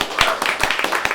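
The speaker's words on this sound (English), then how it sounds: "give yourselves a big round of applause" Scattered hand claps from a small audience in a bar, a few sharp distinct claps over a murmur of voices, moderately close.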